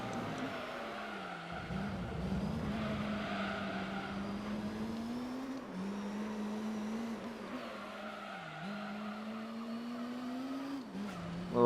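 Race car tires squeal in oversteer in Gran Turismo 3, a sustained engine drone with sliding tire noise riding over it through most of the stretch, fairly steady and moderately loud with no talk.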